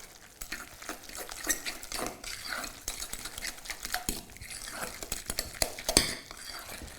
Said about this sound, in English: Give it a final mix.